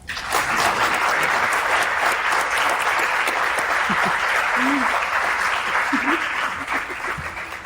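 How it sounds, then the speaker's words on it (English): A live podcast audience at the SIOP 2024 conference breaks into a full round of applause, dense and steady, with a few faint voices and whoops in the crowd before it tapers slightly at the end. "give it a round of applause"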